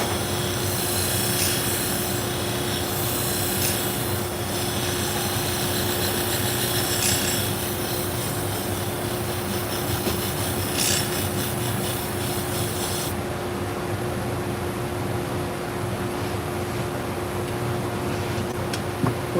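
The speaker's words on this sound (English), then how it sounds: "we're sharpening pet grooming shears for a local dog groomer" Pet grooming shears are sharpened on a machine. A steady grinding and rubbing whine runs the whole time, with a high scraping layer that drops away about two-thirds of the way through, leaving a constant motor hum. No one speaks.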